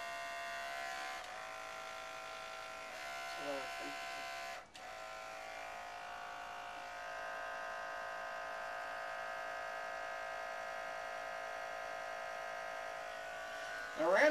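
Electric dog grooming clippers give a steady, sustained buzz that runs almost unbroken through the whole stretch, dipping briefly once, with faint sounds around it.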